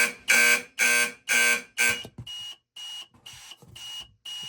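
A fire alarm panel sounds during a drill demonstration, first with five loud broadband horn blasts in a steady temporal rhythm, then switching to fainter, thinner repeated beeps, close and without talk.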